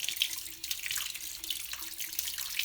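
Tap water runs steadily into a sink while dyed fabric is squeezed and rinsed beneath it, a continuous close splashing hiss with no talking.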